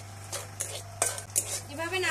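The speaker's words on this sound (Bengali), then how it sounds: "তেলে দিয়ে দেব একটা তেজপাতা, এলাচ, লবঙ্গ আর দারুচিনি। এভাবে নাড়াচাড়া করতে থাকবো।" A utensil stirs bay leaf, cardamom, cloves and cinnamon in hot oil in a wok, making several close scraping and clattering strokes over a soft sizzle and a steady low hum.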